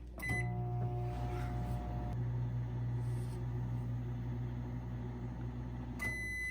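A microwave oven hums steadily while heating pho broth, with a door or button click at the start and closing beeps near the end, no talking.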